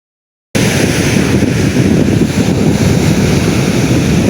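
Strong wind roars over a rough sea with big waves on a coast where fishing was called off for bad weather, a loud continuous rush with wind buffeting the microphone and no talk.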